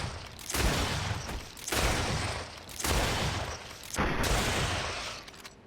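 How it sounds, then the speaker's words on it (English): Gunfire in the PC video game GreedFall comes as four or five loud, booming volleys at roughly one-second intervals, each shot decaying into a rumbling tail and with no voices between them. "Just keep shooting."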